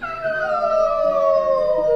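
Children imitate wolves with a single drawn-out, falling howl in unison at Great Wolf Lodge on Christmas Day. The howl is loud and close and lasts about two seconds.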